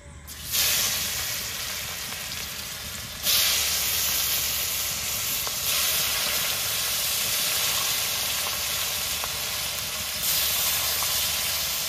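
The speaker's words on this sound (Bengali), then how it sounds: "এখন কেটে রাখা পেঁয়াজ কুচিগুলো তেলের মধ্যে দিয়ে দেবো।" Chopped onions sizzle in hot oil while a meat curry is being cooked, making a loud, steady frying hiss that runs almost the whole time, with slight surges as more onion goes in. No one speaks.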